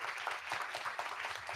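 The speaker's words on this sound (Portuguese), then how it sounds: "Uma salva de palmas" A seated audience applauds at a university education conference, giving a continuous, even round of clapping with no voices over it.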